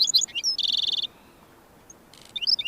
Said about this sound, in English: a black-throated sparrow sings from the thorn scrub